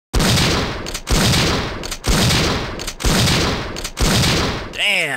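Rapid shotgun blasts fired with enhanced ammo in Resident Evil 3: five loud, booming shots spaced about a second apart, each decaying into a rumbling tail, alone without talk.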